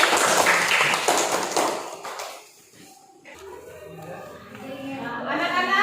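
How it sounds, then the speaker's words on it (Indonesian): A classroom of young pupils claps hands together in a short burst of rapid clapping that fades out after about two seconds, followed by a teacher talking. "Supaya beri semangat, kita tepuk tangan."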